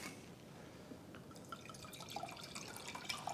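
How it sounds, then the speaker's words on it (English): Wine pours in a short splash into a glass beside a tray of pasta and garlic bread, a faint liquid trickle with a few small drips, quiet and close with no talking. "A splash of vino."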